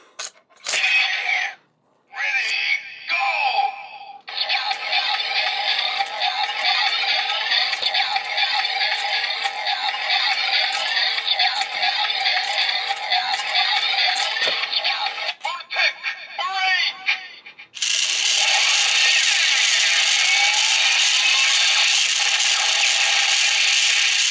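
Kamen Rider Build DX Drill Crusher toy in gun mode gives off its electronic Voltec brake sound, a loud continuous whirring, buzzing tone that runs steadily for many seconds, drops out briefly, then returns brighter and harsher.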